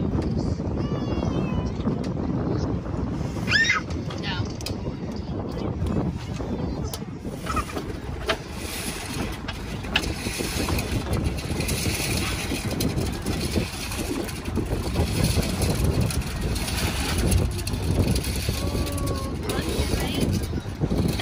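Steady engine drone and water rush of a boat underway, with wind buffeting and occasional voices in the background.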